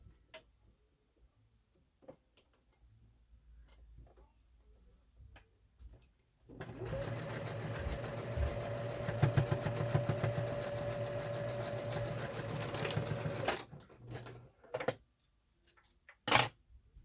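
A sewing machine stitches a fabric bear, overlapping stitches, in one fast, steady whirring run of about seven seconds, with quiet taps and small handling clicks before and after.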